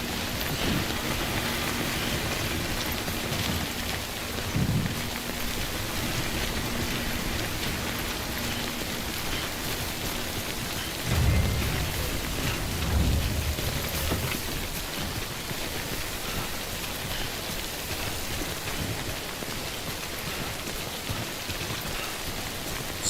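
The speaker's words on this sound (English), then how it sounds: "Rain ain't ideal for this." Steady rain falls outdoors, a constant dense hiss of drops on surfaces lasting throughout, with a few low rumbling thumps and no voices.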